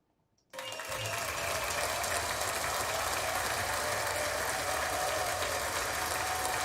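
Dense, sustained applause erupts abruptly after a brief silence and carries on evenly, loud and close, with no talking over it.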